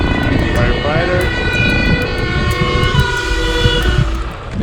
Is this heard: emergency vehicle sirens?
yes